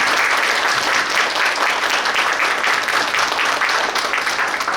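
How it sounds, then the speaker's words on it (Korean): A conference forum audience claps in sustained, dense applause, a steady crackling wash of many hands that carries on without pause. "여러분들 박수 한번 좀 주시기 바랍니다."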